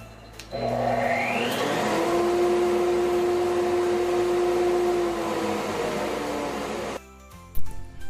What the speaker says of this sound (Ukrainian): Так, звісно, це пилосос.